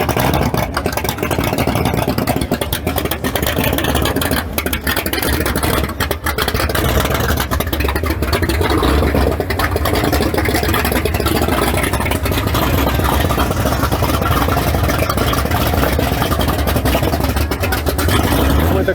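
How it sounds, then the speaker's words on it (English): A Ford Mustang Cobra Jet at a dealership lot fires up and settles into a loud, lumpy, rumbling idle with occasional blips of revving, close by and sustained throughout. "Doesn't get old hearing this car start up, boy."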